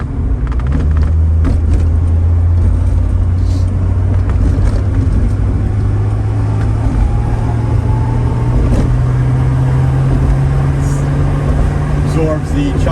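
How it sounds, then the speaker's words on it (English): Interior of a 1971 Mercedes-Benz 280 SL roadster cruising on a Long Island highway: a steady, loud low engine drone and road rumble throughout, with wind and tire noise and a slight pitch rise as it speeds along. "Now I'll show you how it cruises on the highway"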